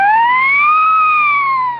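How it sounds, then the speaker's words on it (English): A siren sound effect from a 1930s radio broadcast gives a single bright, close wail that rises slowly, holds, then dips and tails off over about two seconds. "That's the siren of the Certified Magic Carpet."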